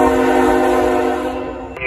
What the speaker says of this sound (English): They got a ST70 ACE leader, and we haven't seen this train in 3 months.